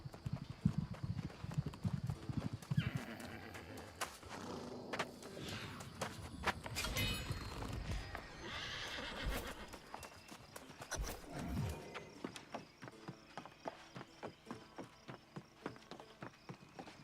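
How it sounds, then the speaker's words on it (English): Horse mount hooves clip-clop in the New World video game, a rapid rhythmic trotting with a neigh partway through, set against game ambience and music. "And then we'll head to get our mount,"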